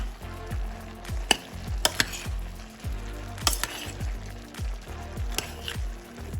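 Vegetables cooking in a pan for a Cypriot turlu seasonal stew, with a steady close sizzle and frying hiss broken by repeated sharp clinks and scrapes of stirring, and no talking.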